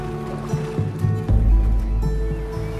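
Water waves wash through the Unravel puzzle game as a low, rolling rush that swells and surges midway, set beneath steady sustained musical tones with no voices.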